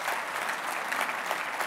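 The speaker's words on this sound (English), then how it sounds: "Please give a round of applause to Jeff Barnes" A business forum audience on education investment gives a round of applause, a continuous wash of many hands clapping, fairly loud and even from start to finish.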